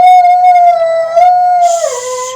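A dog lets out a long, steady howl at close range, holding one pitch before sliding lower at the end as a brief hiss rises behind it.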